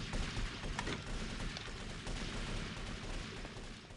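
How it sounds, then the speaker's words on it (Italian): Dense gunfire in GTA Vice City, a sustained barrage of overlapping shots and bursts, loud and continuous throughout with no pause. "Si sparano già."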